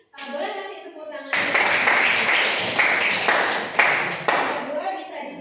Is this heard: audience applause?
yes